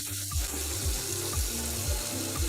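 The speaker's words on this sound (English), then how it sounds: "The water is running." Steady running water from a garden kitchen sink tap, a continuous hiss with a low rhythmic pulsing underneath, close by and moderately loud, no voices.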